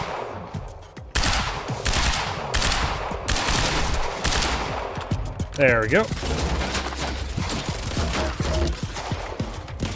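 Repeated rifle gunfire cracks through a firefight in the video game Quantum Break, with sharp shots and bursts over several seconds, fairly loud, while someone talks over part of it.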